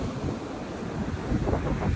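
Ocean surf rolling onto a sandy beach, a steady broad wash of breaking waves with wind buffeting the microphone, the surge swelling slightly louder toward the end.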